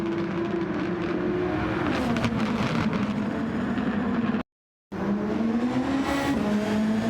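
Formula race cars scream past in a Project SF1 video game race at the Kyoto Grand Prix, a steady high engine whine with shifting pitch as gears change, briefly cutting out before resuming.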